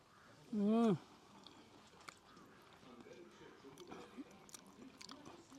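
Someone bites into hot fried chilapi fish cooked over a wood-fired chulha. A short hummed exclamation is followed by faint, close chewing and soft crunchy mouth sounds that continue quietly.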